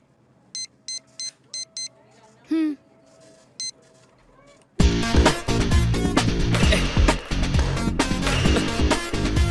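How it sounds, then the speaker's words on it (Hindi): A phone number is dialed on a handset in a Hindi comedy film scene: a run of short, evenly spaced keypad beeps and a brief tone, after which loud music abruptly takes over. "ला, नंबर लगा और फोन मुझे दे"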